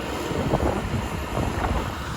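Strong storm wind buffets the microphone in a steady, loud roar with gusting surges, drowning out everything else; no voices are heard.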